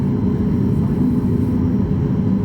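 United Express plane taking off from runway 24 left, a dense low jet engine roar heard from inside a waiting airliner, steady and loud without pauses.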